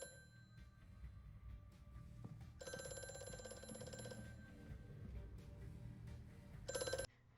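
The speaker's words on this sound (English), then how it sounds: "as the TARDIS phone rings." The TARDIS telephone in Doctor Who rings in two bursts, a longer ring followed after a pause by a short one, faint under a low background hum.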